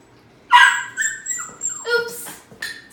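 A dog whines in high, wavering cries, then breaks into a couple of short yips and barks, close by and loud.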